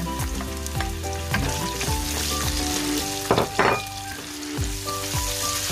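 Onions sizzle and fry steadily in a hot pan for laing, with repeated scraping stirs and a brief burst of louder crackling midway, up close with no talk.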